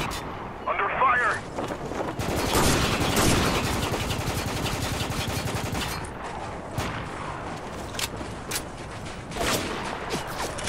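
Sustained gunfire in the shooter Spec Ops: The Line, dense rapid bursts and shots filling the whole stretch, loud and close, with a voice briefly heard early on.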